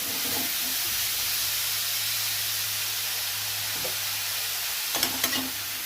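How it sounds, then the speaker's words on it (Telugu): Grated bottle gourd fries in ghee in a pan, a steady hiss of sizzling with a low hum beneath and a few soft stirring scrapes near the end. "ఇదిగో గ్రేటెడ్ ఆనపకాయ ఇందులో వేసేసుకోవాలి. వేసుకొని ఒక మాట వేయించుకోవాలి."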